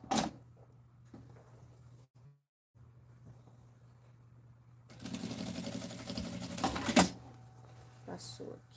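A sewing machine stitches the seams of a fabric bag's lining, a low steady hum giving way to a nearby burst of rapid whirring stitching for about two seconds, then stopping with a clack.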